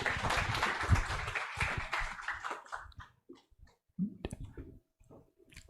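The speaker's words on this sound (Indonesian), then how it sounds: "Beri aplaus sekali lagi." An audience applauding after a talk by Rocky Gerung, a dense burst of clapping that thins out into scattered claps and fades away.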